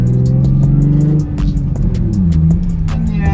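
A Nissan 350Z fitted with an exhaust resonator rumbles in a deep, steady drone, the note dipping slightly then holding, loud and close with light clicking over it.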